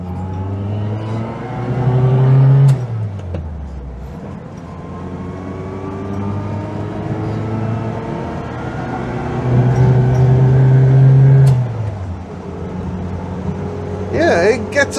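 A Zastava 750 small rear-engined car drives along with a steady engine note, revving and changing gear through its synchromesh gearbox twice, rising in pitch before each shift; someone talks over much of it.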